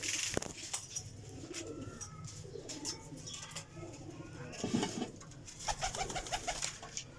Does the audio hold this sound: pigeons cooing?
yes